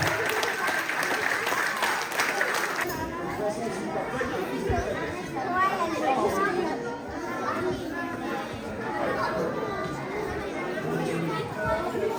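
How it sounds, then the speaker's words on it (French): Steady applause from an audience at a children's judo and jujitsu school end-of-year show, mixed with lively crowd chatter and children's voices, continuing throughout. "Pour les applaudir."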